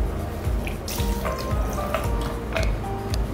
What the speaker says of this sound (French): on va simplement rajouter 15 centilitres de vodka